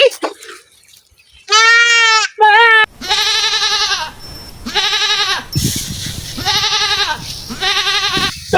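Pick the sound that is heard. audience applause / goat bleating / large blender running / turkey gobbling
goat bleating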